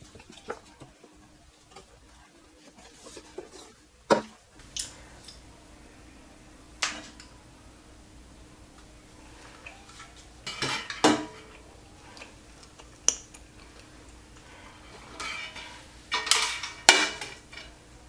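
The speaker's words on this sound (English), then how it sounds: "but I cut my wax up" Coconut apricot candle wax being cut from a slab, heard as scattered sharp scraping and knocking cuts, some short and a few in quick pairs, fairly close over a quiet room, with no one talking.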